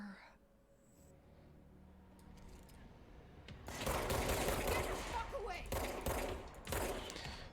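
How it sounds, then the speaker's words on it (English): Rapid gunfire in the video game Control bursts in from the middle, a loud dense volley of shots with a few quieter sounds before it. "You open fire first"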